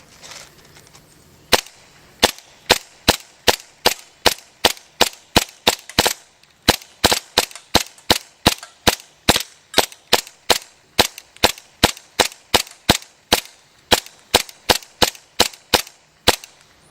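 An airsoft M4 rifle fires at targets about 115 feet away. Sharp, loud single shots pop at a fairly even pace, roughly two per second, with brief pauses between some of them and no talking.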